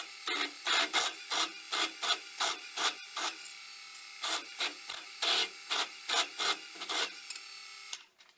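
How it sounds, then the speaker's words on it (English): Short bursts of drilling or grinding through wooden knife-handle scales repeat in an even rhythm, about a dozen loud, close passes separated by brief pauses, then the sound stops. "I'm going to go drill a few extra holes in the handle for the epoxy to pass back and forth between the two scales"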